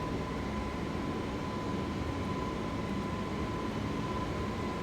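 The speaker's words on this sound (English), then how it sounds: "We can retract those flaps. So flaps up." Steady broadband cockpit noise from an Airbus A321LR in Flight Simulator 2024 as the flaps retract after takeoff, a continuous even roar with a faint steady tone running through it, no voices.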